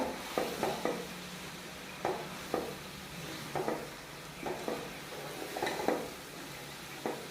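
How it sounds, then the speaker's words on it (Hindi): Shredded cabbage and masala stirred in a pan as a spoon scrapes and pushes through it in a steady rhythm of soft scraping strokes over a low, constant sizzle, close and without talk. "अब इसे अच्छे से ऐसा मिक्स कर लेंगे।"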